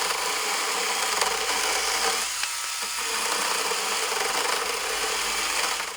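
A Makita UC100D 12V cordless pruning saw cuts through a 50 mm oak branch, giving a continuous close rasping buzz of the chain biting hardwood that eases briefly midway.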